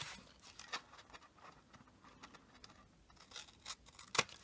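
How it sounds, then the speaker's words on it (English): Scissors snip a notch off a piece of Birthday Bouquet patterned paper while a tall ribbon box is being made. A few short, crisp cuts stand out near the end, with quiet handling rustle between them. "just going to cut that notch off"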